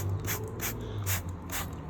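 Four evenly spaced bursts of cleaner spray hiss out in a steady rhythm onto a Mercedes cold air intake filter, close and fairly loud against a low background hum.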